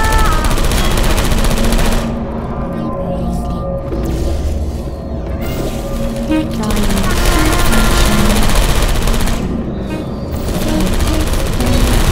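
A Portal 2 turret fires long rapid bursts like a machine gun, loud and close, breaking off briefly and then starting again, with mechanical game noise underneath.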